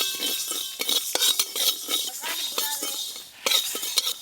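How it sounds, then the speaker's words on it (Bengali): Panch phoron and mustard seeds dry-frying in a pan, stirred with a metal utensil: repeated scraping, light clinks and rattling seeds against the pan, close and irregular, without any talking. "এই যে এখানে 5 ফোড়ন আর সর্ষে নিয়েছি, একসঙ্গে ভেজে নেব।"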